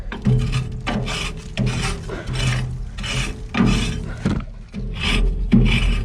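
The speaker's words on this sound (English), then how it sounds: "I try to scrape this down onto the fire." Rasping strokes of a metal scraper dragging creosote off the inside walls of an outdoor wood boiler, repeated about eight times in a steady rhythm, close and loud.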